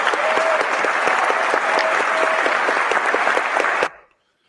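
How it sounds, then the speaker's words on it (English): Audience at a live evening session clapping in a dense, steady burst of applause for about four seconds, then cutting off abruptly into silence. "Round of applause for everybody who's in here"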